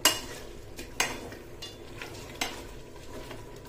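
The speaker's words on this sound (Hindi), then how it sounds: "मिक्स करेंगे थोड़ा सा, मिक्स करने के बाद" Biryani masala being mixed in a pan for mutton biryani, with a few sharp scrapes of a spoon against metal near 0 s, 1 s and 2.4 s over a low, steady sizzle.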